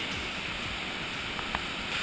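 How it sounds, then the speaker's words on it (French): Constant rushing water from an underground waterfall inside a flooded cave passage, a steady broadband hiss without pause, moderately loud, with no voices. "Ah, la cascade, elle va être dure à passer."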